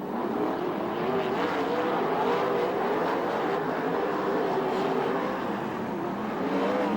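Sprint cars from the USAC/CRA and VRA 360 classes race at Ventura, California, their engines a loud, continuous droning roar throughout with shifting pitch as the pack circles the track, no voices heard.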